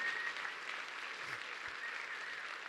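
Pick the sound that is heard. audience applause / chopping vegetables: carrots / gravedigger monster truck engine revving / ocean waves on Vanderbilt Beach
audience applause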